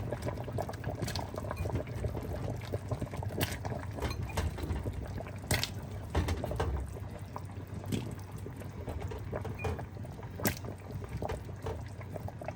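Pot of Jamaican one pot soup bubbling on the stove, with soft continuous simmering and scattered sharp pops and clinks close by, fairly quiet and steady throughout.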